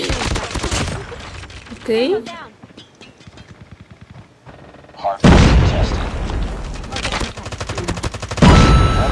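Holger rifle fire in Call of Duty Mobile, dense rapid bursts of automatic gunfire with booming impacts, loud and close, interrupted by a quiet stretch, with a person briefly speaking over the game audio.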